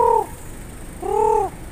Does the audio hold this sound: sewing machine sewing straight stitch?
no